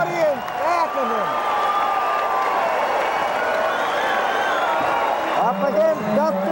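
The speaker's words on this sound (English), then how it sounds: "the crowd goes wild. With a massive audience back of him." High school wrestling audience in a packed gym cheering and applauding loudly and continuously, with announcers talking over the roar.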